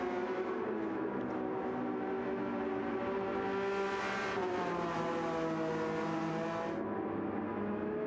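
Race car engine in a sim racing game at Suzuka, Porsche Cup or GR3 car running steadily through the S-curves, a loud continuous harmonic drone with rising and falling pitch as it revs, no talk.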